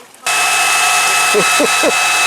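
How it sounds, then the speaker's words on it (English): A hair dryer starts abruptly and runs with a loud, steady whooshing drone, with a few soft knocks partway through, aimed at maple syrup equipment outdoors. "gonna put the hairdryer on it and see if we can't get that thing going quicker"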